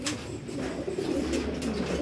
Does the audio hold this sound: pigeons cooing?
yes